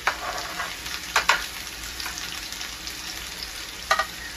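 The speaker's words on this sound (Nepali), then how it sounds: "हाम्रो प्याजहरु, अदुवा, लसुन जति पनि हामीले खोर्सानीहरु राखेका थियौं कति रातो ब्राउन कलरको भइसकेछ है।" Onions, ginger, garlic and chillies fry in a pan as they brown, a steady close sizzle with a few brief stirring scrapes breaking through, no voices.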